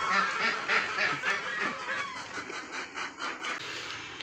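Ducks on a farm honking and quacking loudly as feed is scattered, several birds calling over one another close by in busy, overlapping bursts.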